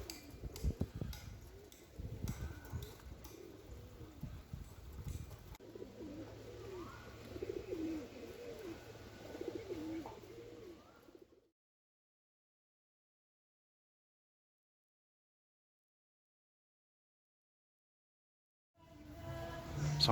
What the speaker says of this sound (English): You get bombarded by pigeons.